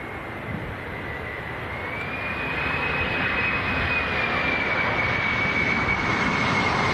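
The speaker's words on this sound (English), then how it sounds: "An aircraft on finals." A Jet2 jet airliner on final approach to land at Leeds Bradford Airport gives a steady, loud engine roar that builds over several seconds, with a sustained high whine running through it.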